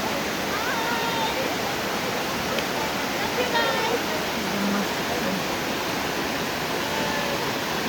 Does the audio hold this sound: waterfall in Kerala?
yes